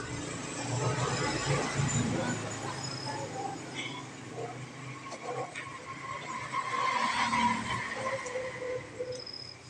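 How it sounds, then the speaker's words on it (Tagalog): Roadside traffic passing nearby, a continuous rumble of cars and engines with occasional tire noise, loud and close, while someone talks over it. "medyo maingay dahil nga na sa tabing kalsada po tayo ngayon"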